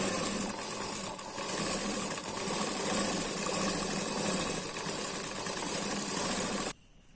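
A sewing machine runs in one steady, continuous mechanical whir while stitching the puff sleeve of a princess-cut blouse, then stops abruptly near the end.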